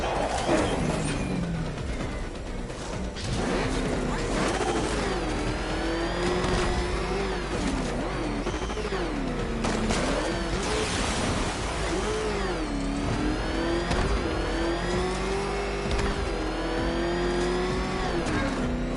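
The Batmobile in Batman: Arkham Knight roars through revving, rising and falling engine sweeps, loud and continuous with gear-like pitch swoops over a driving game soundtrack.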